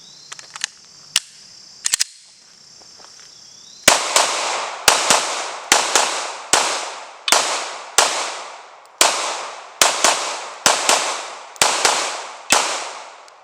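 Glock pistol fired with PMAG magazines at a range, a few isolated shots followed by a steady string of loud, evenly spaced gunshots with ringing echoes, close to the listener.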